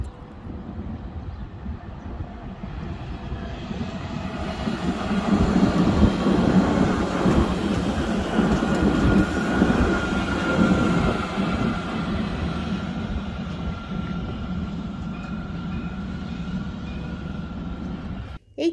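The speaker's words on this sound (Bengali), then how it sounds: "এই টং টং আওয়াজটা শুনলেই কলকাতার পুরনো ঐতিহ্য ট্রামের কথা মনে পড়ে যায়" A Dubai tram rolling past, a steady rumbling roar that builds and stays loud before easing off, with no clear bell strikes standing out.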